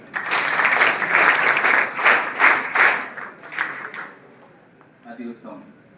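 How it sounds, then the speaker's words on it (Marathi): Audience at an engineering college induction programme clapping loudly together for about four seconds, then the applause thins out and fades. "सगळ्यांनी स्वतःसाठी एकदा टाळ्या वाजवा"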